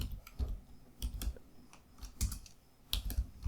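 Keys clatter on a computer keyboard as Java code is entered in Eclipse on Windows 11, close and fairly quiet, in short uneven bursts of taps with brief pauses between.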